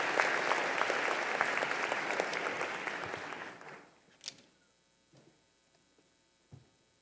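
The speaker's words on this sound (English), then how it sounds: "Let's give our NCCU University Choir another round of applause." Loud applause from a commencement ceremony audience for a university choir, steady and dense clapping for about three and a half seconds before fading out, followed by a few faint isolated sounds in a quiet hall.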